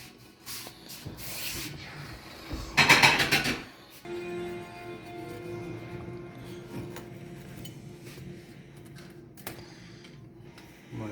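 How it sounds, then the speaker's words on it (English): Scraping and crunching of a serving utensil cutting through the crisp crust of a shepherd's pie, with clinks against a dish and a louder rasping burst partway through. "Y'all hear that crunchiness on that crust?"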